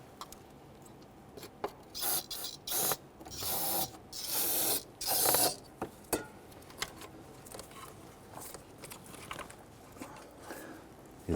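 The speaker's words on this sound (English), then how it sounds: "I'm going to spray the bottoms of the injector O-rings with some solvent and push those in" Short hissing bursts of aerosol solvent sprayed onto fuel injector O-rings during intake gasket work on a 1999-2004 Jeep Grand Cherokee 4.7L V8, several close sprays of varying length separated by quiet handling noises.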